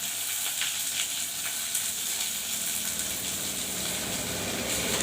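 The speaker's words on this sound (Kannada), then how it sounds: "ಒಂದು ಸ್ವಲ್ಪ ಎಣ್ಣೆ ಒಳಗನ ಬಾಡಿಸ್ಬೇಕು" Onions, green chillies and curry leaves sautéing in a little oil, a steady soft sizzle and crackle with faint stirring, continuous and fairly quiet, with no talking.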